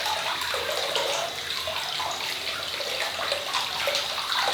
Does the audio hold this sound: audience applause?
no